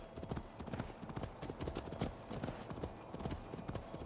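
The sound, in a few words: horse hooves clip-clopping during ride, from a video game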